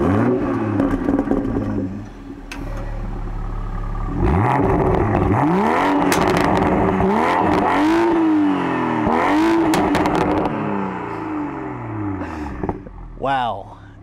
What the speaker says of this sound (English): The exhaust is a little bit louder, a little bit crisper